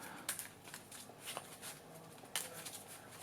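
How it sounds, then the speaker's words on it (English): A deck of Yu-Gi-Oh cards being shuffled by hand, with quick papery riffling bursts and a sharper flurry near the end, close and fairly quiet with no talk. "Trying to make sure he gets a very decent shuffle."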